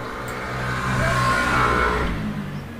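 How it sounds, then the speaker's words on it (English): A motorbike passing along a street outside, its engine rising and swelling as it nears, then easing away at moderate distance. "That would be a motorbike going down the street."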